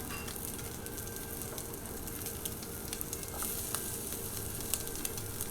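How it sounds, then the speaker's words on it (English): Dry sausage frying in a pan with no oil over medium heat, a steady soft sizzle with scattered small pops and crackles throughout, fairly quiet and unbroken. "put that dry sausage right in the pan"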